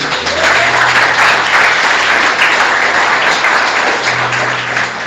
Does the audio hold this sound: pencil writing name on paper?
no